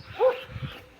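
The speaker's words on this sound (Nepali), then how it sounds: "एक कुकुरले चाहिँ हल्का हो होइन जताततै कुकुर छ यो अगाडि नि पछाडि नि" On a morning walk a dog lets out a short yelp or whimpering bark, with quieter canine sounds after it against faint outdoor background.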